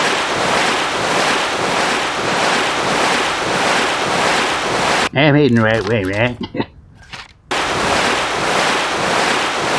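Loud, continuous rushing wind and crashing water from giant water spouts at sea in the video game Rune Factory: Oceans, cut off for about two seconds while a person speaks, then roaring back.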